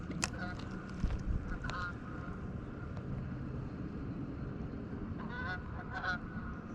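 Several geese honk in short bursts at varying distances, over steady wind and water noise.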